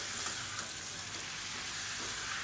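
Chicken on the bone sautéing with garlic and onion for a salted chicken curry, a steady close sizzle and hiss of frying with soft stirring scrapes, continuous and even, no voices.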